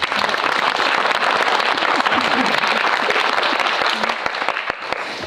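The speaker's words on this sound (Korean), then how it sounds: "큰 박수면?" Sustained applause from a cinema audience at a post-screening talk for the film Nailed, a dense, steady wash of many hands clapping that fills the whole stretch and tapers slightly near the end.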